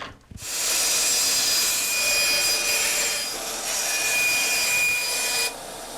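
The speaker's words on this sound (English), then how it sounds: "I'm going to take this to the bandsaw and cut a rough outline of that" A bandsaw cutting the rough outline of a laminated wooden guitar neck: a loud, steady whining buzz of the blade through wood that starts after a brief knock, runs for about five seconds, then drops back to the saw's idle hum.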